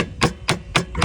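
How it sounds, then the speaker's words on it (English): A motorcycle footpeg being repaired, the head of a cotter pin struck into it with three evenly spaced, sharp metallic taps, close and clear with no talking. "I might need to smack the head of the cotter pin in"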